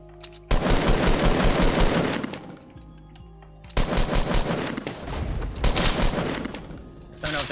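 Loud bursts of automatic gunfire in the Fortnite battle royale game, two long sustained volleys separated by a brief lull, with more shots trailing off near the end.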